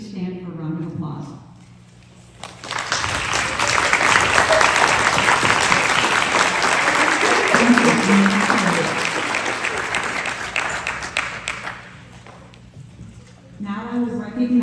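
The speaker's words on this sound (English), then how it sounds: "Returning members, please stand for a round of applause." Audience applause fills a school auditorium at a National Honor Society induction ceremony as returning members stand, a long steady burst of many hands clapping that swells and then fades, with a voice speaking briefly before and after.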